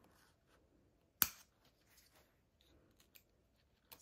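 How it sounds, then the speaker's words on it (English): Sharp scissors make a single crisp snip through the corner of a lined fabric bag, close and clear, followed by faint handling rustles in a quiet room. "just snip that with my scissors"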